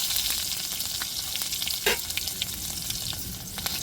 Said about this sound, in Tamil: இப்போ கடுகு சேர்த்துக்கிடுவோம் வெங்காயம் சேர்த்துக்கிடுவோம்